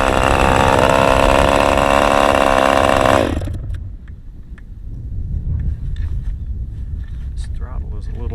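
A Fox 40 BBRC Deluxe glow engine on an RC boat runs at a loud, buzzing high pitch for about three seconds, then cuts out abruptly, leaving faint clicks and handling noise.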